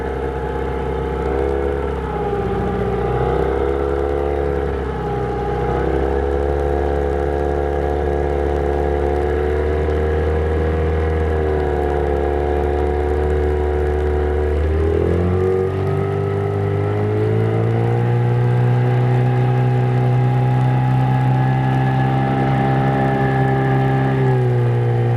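A fishing boat motor runs through a trolling run, close and loud, with a sustained tonal drone. Its pitch wavers and then steps up partway through before holding steady, with no talking over it.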